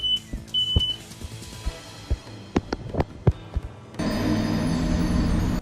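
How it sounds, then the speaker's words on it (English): A high electronic smoke alarm beep sounds in a couple of short bursts early on, followed by scattered knocks and thumps and a steady rushing noise. "I had this really fun minigame to play where I had to go back and forth between fanning my hyper-reactive smoke alarm"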